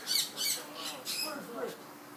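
Birds squawk in repeated harsh, bright bursts at a flea market on a Sunday, close and fairly loud, with faint market murmur underneath.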